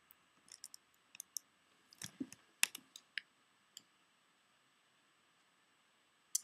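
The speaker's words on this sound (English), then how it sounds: "I'm just going to right click on it and choose download link file." Sharp, isolated computer mouse clicks while a file is right-clicked and downloaded, a scatter of close, quiet taps with short gaps and a lone click near the end, with no talking.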